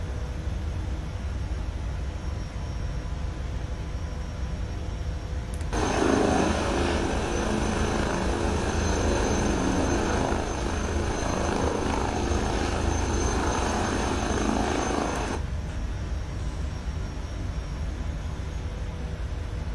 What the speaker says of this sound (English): Note that the H160 is capable of taxiing.